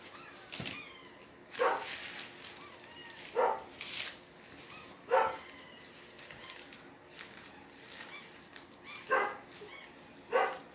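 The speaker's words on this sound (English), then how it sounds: "You hear the puppies crying, Terry?" Puppies whimper and yelp in short, scattered bursts, a few seconds apart, under a quiet indoor background during a craft session.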